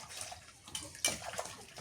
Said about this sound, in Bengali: মাছ ধোয়া দিল